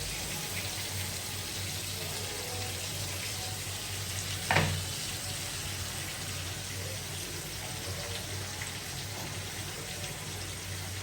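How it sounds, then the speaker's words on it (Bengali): Chicken with blended masala paste, salt and a little water sizzles and fries steadily in a pan. The hiss is loud and even throughout, with one brief clatter of a utensil partway through. "মশলাটা ভালো করে কষানি মানে একটু মুরগি বাজাটা হয়ে গেছে।"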